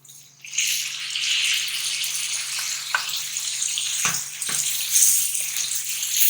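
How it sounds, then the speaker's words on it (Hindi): Chopped tomatoes tipped onto fried onions in a hot pan, bursting into a loud sustained sizzle with a few thumps and scraping knocks of a spoon, over a low steady hum. "अब मैं इसमें डालूंगी ये टमाटर"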